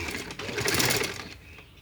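Sewing machine stitching the hem (pancha) of a women's kunday wali shalwar, a steady fast motor whir with rapid needle chatter running throughout, close and even.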